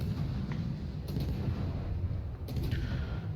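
Naval gunfire from warship guns in World of Warships, with a Småland destroyer firing HE shells: two sharp reports about a second and a half apart over a steady low rumble.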